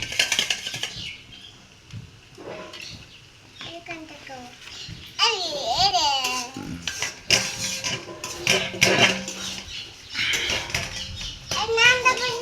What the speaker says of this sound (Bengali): কি গরম লাগলে দেও, আমি একটু নাড়াচাড়া করি।